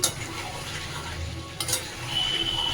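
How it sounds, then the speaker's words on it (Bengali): A spatula stirs chicken frying in oil in a pan for Kolkata-style home chicken chaap, a steady sizzle with scraping strokes running throughout, close and continuous. "আমার এখন কাজ হলো খুন্তি নাড়ানো, খালি মাংসকে কষিয়ে যাও"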